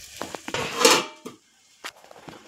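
Spices stirred into fish frying in a pan, heard as a few close scraping and clinking strokes of a utensil against the pan, with a louder rustling stir near the middle and brief knocks after short pauses.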